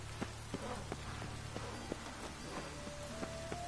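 Rain falling in The Witcher 3, a soft, steady patter of drops on surfaces with occasional sharper taps, faint and continuous with no talk over it.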